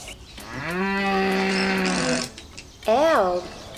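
An elk calls twice nearby: first a long, steady, deep harmonic call, then after a short pause a brief call that bends up and back down. No one speaks.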